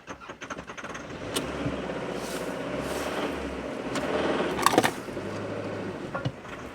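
A 90s Toyota Camry that was run without oil is cranked to start, giving repeated uneven starter churning and low engine rumbling, close and moderately loud, with a few sharp clunks, no voices.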